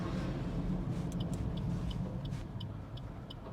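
Maruti Alto K10 three-cylinder petrol engine idling in neutral, a steady low hum with faint periodic ticking, heard from inside the car and easing slightly toward the end.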